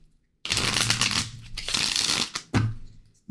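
Tarot cards being shuffled by hand: riffling bursts with short gaps between them, close and crisp, with no talking.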